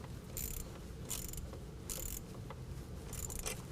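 A ratchet tightens a coupler clamp on a cold air intake for a 2019 Ram 1500, giving four quiet rhythmic bursts of clicking over a low hum, with no voices.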